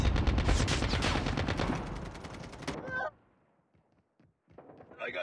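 Gunfire in Call of Duty Mobile, a rapid burst of automatic shots for about three seconds that cuts off abruptly, then a brief quieter burst near the end.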